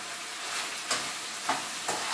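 Beef stir fry frying in a pan. It gives a steady, close sizzling hiss with a few brief louder bursts as it is stirred.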